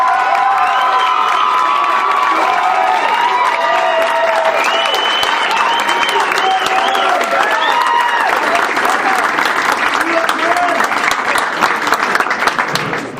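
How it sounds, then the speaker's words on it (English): A crowd at the 2012 Potter Cup men's college squash finals gives loud sustained applause for the Trinity team, with cheering, whoops and high-pitched shouts over continuous clapping. "Please give a big round of applause for Trinity."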